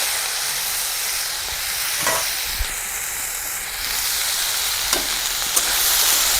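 Potato and banana flower sizzle steadily in hot oil with mustard seeds in a pan on a village stove, a continuous close hiss with an occasional scrape or knock of a stirring spoon.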